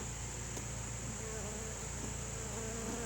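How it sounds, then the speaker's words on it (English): Steady, dense insect buzzing from many honey bees, constant and close, with a faint high whine running throughout. "I can assure you that there's a lot more bees"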